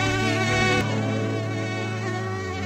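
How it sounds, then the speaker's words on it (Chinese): A mosquito whines close by on an outdoor concert stage in Qingdao, a continuous high, droning buzz that stays loud and steady throughout the short moment. "有一只蚊子直接飞到我嘴巴里面去了。"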